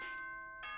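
A school announcement chime from the video game Danganronpa: a clear two-tone electronic bell, sustained and ringing, with the second tone starting just before the end, moderately loud with no speech.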